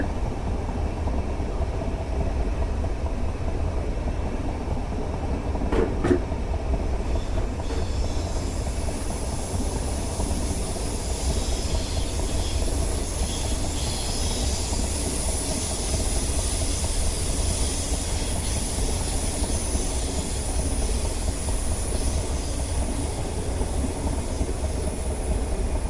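A train runs steadily through Train Simulator 2019 on the route from London Bridge to London Victoria via Crystal Palace, a continuous rumbling hum with a thin high whine rising partway through.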